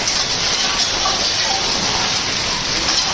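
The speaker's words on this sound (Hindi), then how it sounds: "बारिश नहीं है, पेवर ओले आ रहे हैं।" Heavy hailstorm in Rajasthan in late December, ice pellets drumming hard and without letup on nearby surfaces, a loud, even downpour-like clatter filling the whole stretch.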